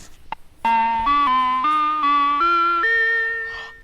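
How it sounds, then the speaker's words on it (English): An ice cream truck jingle, heard from a plague doctor character, plays as a loud, clear tune of about seven held electronic notes that step gradually upward in pitch. It follows a brief faint click and rings alone with no speech. "It's the ice cream truck."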